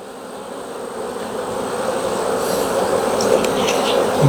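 Honey bees hum steadily throughout a hive colony inspection during a mated queen introduction, a dense continuous buzz that swells slightly louder toward the end, with no talking.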